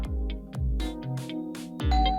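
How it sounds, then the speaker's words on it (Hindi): A doorbell rings several times in quick succession, each ding-dong clear and close, with brief gaps between the chimes. "जिंदगी में पहली बार इतना मजा आ रहा है डोरबेल बजने से।"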